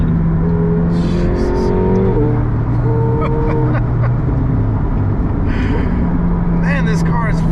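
A 1,000 HP McLaren 720S accelerates hard with a loud, rising engine roar and sharp gear changes heard from inside the cabin. The engine keeps pulling continuously, and brief voices come through between shifts.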